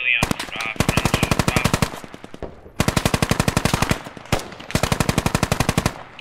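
Automatic gunfire in the tactical shooter Squad, rapid sustained bursts of several seconds each, loud and close, with brief pauses between them.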